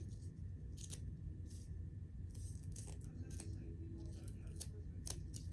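Scissors cutting tape on a homemade piñata, a series of quick snipping clicks spread across a few seconds over a low background rumble.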